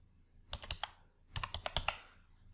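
Brief bursts of computer keyboard typing while entering a value in a Microsoft Excel VLOOKUP dialog box, two clusters of close, quick keystrokes separated by a short pause.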